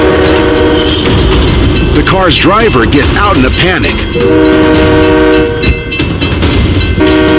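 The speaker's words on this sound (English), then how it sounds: "trapping the truck with a dash cam and a blue car on the tracks as a northbound train approaches" A northbound train nears a level crossing where a truck and a blue car are trapped on the tracks, its horn blaring in loud bending tones over rumbling wheels, with a voice talking over it.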